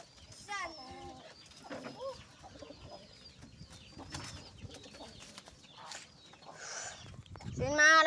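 Pigeons jostling over scattered feed, with close cooing, clucking calls and bursts of flutter; people talk intermittently nearby.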